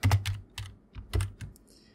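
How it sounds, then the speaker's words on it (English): Computer keyboard being typed on, a quick burst of about eight close, crisp key clicks in an uneven rhythm, then silence. "select the type tool and type in the text"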